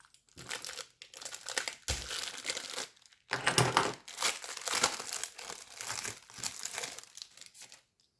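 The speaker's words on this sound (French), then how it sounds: "ces packs en plastique léger" Light plastic trading card packs for Magic: The Gathering are torn open, giving bursts of close crinkling and tearing with brief pauses between efforts and no voice.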